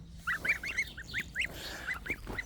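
Goslings honk in a quick run of about ten short, high-pitched calls, close and fairly clear over a faint outdoor background.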